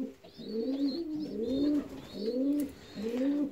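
Fancy ornamental pigeons on a loft terrace coo in repeated low, rolling phrases, several overlapping calls close by, with faint higher bird chirps in the background.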